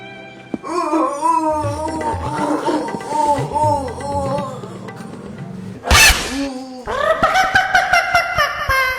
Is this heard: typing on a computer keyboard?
no